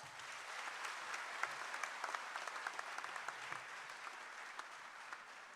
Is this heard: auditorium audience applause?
yes